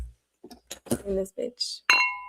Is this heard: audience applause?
no